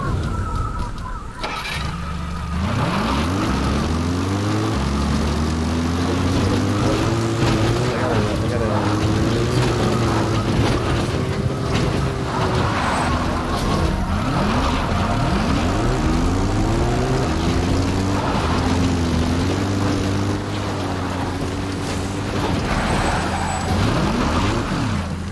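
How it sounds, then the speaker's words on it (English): Support helicopter arriving in Metal Gear Solid V, its engine and rotor drone holding steady and loud with rising and falling pitch sweeps, while a voice speaks over it. "Support helicopter requested."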